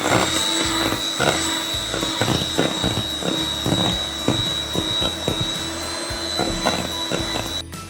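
A blender running with plum cake batter, giving a continuous high motor whine with a steady tone and rattling bursts throughout, loud and close, then cutting off at the very end.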